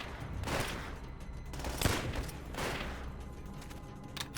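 Gunfire bursts from an MG42 machine gun in Call of Duty: World at War, several rapid volleys with a loud crack near two seconds, set against constant battlefield noise.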